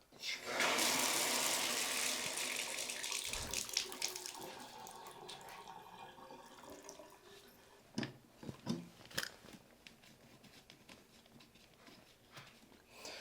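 Water gushes from an opened outhouse toilet tub as pressure is bled off during an emergency repair, a loud rushing hiss at first that gradually weakens, followed by scattered drips and knocks.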